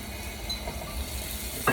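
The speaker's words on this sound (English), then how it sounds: "Okay, so this should sizzle." Turkey sausages sizzling as they brown in a hot pan, a soft steady crackle with a louder burst of frying near the end.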